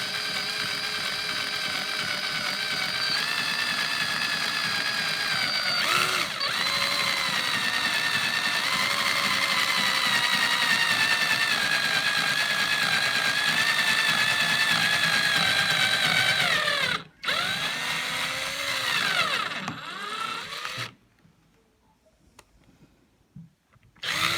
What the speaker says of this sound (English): you want a battery powered drill as well